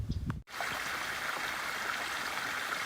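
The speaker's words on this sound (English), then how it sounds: "this is East Saline Creek, our first water crossing of the morning" East Saline Creek on the Eagle Rock Loop trail, its water flowing steadily in a soft, continuous rushing murmur at close range after a brief bump at the start, with no voices.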